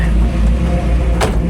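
A 1967 Chevy Camaro classic muscle car being driven, its engine giving a steady, loud low rumble up close with a brief sharper noise near the end.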